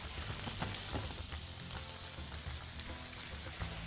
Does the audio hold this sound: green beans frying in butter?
yes